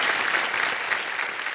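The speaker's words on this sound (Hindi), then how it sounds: "तालियां बज जाए इनके लिए" A studio audience on the Hindi quiz show KBC claps enthusiastically, a dense, even wash of applause filling the hall throughout, with no talking over it.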